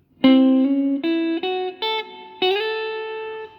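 A short guitar phrase of a few clean plucked notes, one slurring up smoothly into the next via a hammer-on, played alone with sustained ringing tones.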